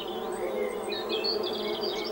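Bees buzz steadily throughout, a continuous droning hum with shifting higher whines as individual insects pass close by, no talking.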